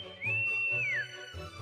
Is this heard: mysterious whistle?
yes